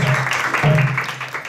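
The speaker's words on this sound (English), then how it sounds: "Please give him a warm round of applause." A temple audience at a Narasimha Caturdasi celebration applauds warmly, loud close clapping over a low hum and some voices, tapering off toward the end.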